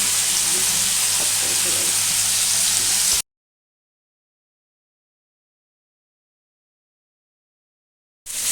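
Eggplant masala curry sizzles and crackles in a pan as it is stirred, a loud, steady frying hiss for a few seconds that then cuts off to silence before briefly returning.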